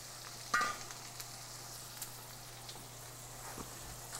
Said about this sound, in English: You'll be able to hear that chicken sizzle.